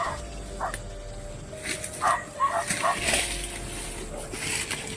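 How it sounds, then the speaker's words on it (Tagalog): A dog barks and yips a few times at some distance, short sharp bursts over a quiet background hum. "Baka naamoy tayo ng aso, Lat."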